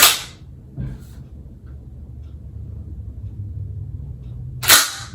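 A Dickinson 12 gauge Commando XX3 shotgun is being handled, giving a sharp mechanical clack at the start, a softer click shortly after and another crisp clack near the end, all close up in a quiet room.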